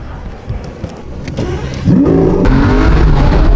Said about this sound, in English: your car's so loud. Like, it's crazy.